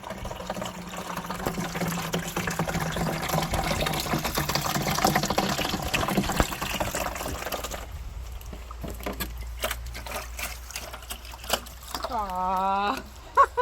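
Muddy Joe Pye roots being washed outdoors with rain barrel water, a steady splashing and pouring rush that stops abruptly, leaving quieter knocks and handling noises, with a voice briefly heard near the end.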